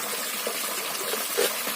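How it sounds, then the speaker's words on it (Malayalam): Falling water splashes loudly at a stream spot where a simple fish trap is being set, a steady broadband rush with no talk over it. "ഇത് ഭയങ്കര ഒച്ചയാണ് ഫ്രണ്ട്സ് ഈ വെള്ളം ചാടുന്നതിന്റെ"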